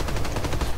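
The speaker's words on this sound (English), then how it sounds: "It's like a freaking explosion shotgun." Rapid, loud bursts of shotgun fire from the Contagion video game, a dense rattling volley with no talk over it.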